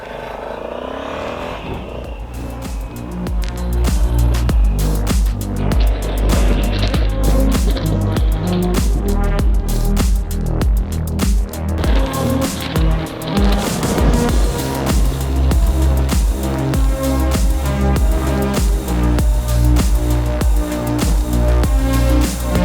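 A Honda Africa Twin motorcycle rides a winding ghat road toward Lavasa, its engine droning and pulsing loudly under constant wind rush, with no talking.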